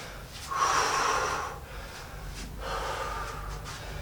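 Heavy, gasping breaths from someone resting between rounds of an intermediate legs and lungs home workout, two long drawn breaths close to the mic, one around the middle and another near the end.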